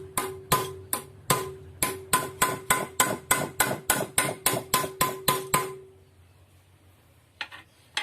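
A hammer pounds a car's long tie rod during a manual repair, about seventeen sharp metallic blows in a steady, fast rhythm, close and loud, then it stops and a faint clatter follows.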